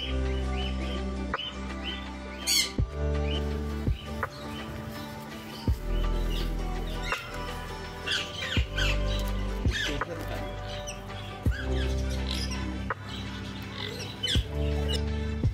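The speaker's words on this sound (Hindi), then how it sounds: "अलग अलग टाइप के काफ़ी सारे तोते हैं यहाँ पे" Various parrots at Dehradun Zoo give sharp squawks and chirps over a fairly busy background with periodic thumps. The calls are moderately close and repeat irregularly throughout.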